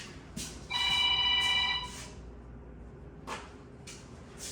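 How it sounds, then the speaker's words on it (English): A phone rings in a close, clear burst of electronic trilling that lasts about a second, followed by brief clunks of handling and room noise, with no speech. "oh, there goes my phone."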